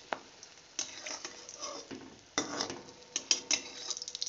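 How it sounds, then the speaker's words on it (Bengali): Sakrali pitha frying in a small amount of oil while hot oil is spooned over it, giving a soft sizzle with scattered scraping ticks and spoon clinks, close and moderately quiet. "দেখুন আমি অনবরত পিঠাটাতে তেলগুলো তুলে তুলে দিচ্ছি"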